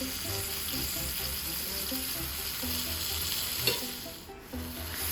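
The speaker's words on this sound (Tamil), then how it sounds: "ரெண்டையுமே நல்லா மிக்ஸ் பண்ணி மசாலாவோட நல்லா கோட்டட் ஆகிற மாதிரி கிண்டி விட்டுட்டே இருக்கணும்." Chicken pieces and potatoes are stirred through masala in a frying pan. A constant sizzle runs under uneven scraping and shuffling strokes, with one sharper knock of the utensil near the end.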